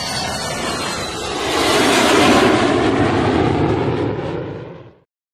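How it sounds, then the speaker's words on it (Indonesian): A passenger airplane taking off, its broadband engine roar swelling loud and steady over a few seconds before cutting off abruptly, with no voices. "pesawat pun pada akhirnya lepas landas."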